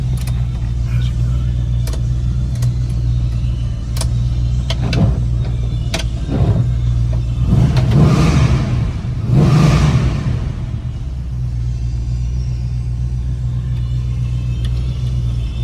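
A 1972 Plymouth Barracuda on a test drive, its engine rumbling steadily with a couple of rising revs and passing whooshes, heard from inside the car.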